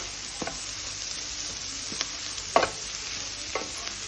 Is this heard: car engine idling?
no